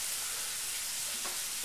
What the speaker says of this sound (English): we're going to let these brown on all sides